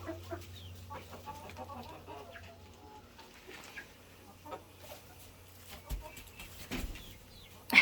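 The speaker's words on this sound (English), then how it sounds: "we have a bunch of the older Wyandottes, and as you can see, we have roosters." Older Wyandotte hens and roosters cluck softly in a coop, with scattered short calls, a little wing flapping and a steady low hum underneath.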